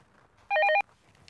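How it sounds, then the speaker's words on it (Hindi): A telephone rings in one short burst of bright, repeating bell-like trills, close and clear, rising sharply from a quiet room before cutting off; no one speaks over it. "भाई फटाफट फोन उठाओ, करुणा मैडम ही होंगी"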